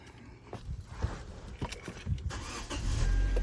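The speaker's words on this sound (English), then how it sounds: "I'm gonna turn the car on" A 2011 Kia Soul engine cranks and catches after some clicks and rustling, the motor then settling into a steady, close idle.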